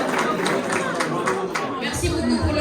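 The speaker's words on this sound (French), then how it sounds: "Je vous remercie pour vos acclamations et vos applaudissements." Audience at a gala dinner in Casablanca cheering and applauding, a dense, steady wash of claps and crowd voices filling the room, with lower murmurs and talk mixed in toward the end.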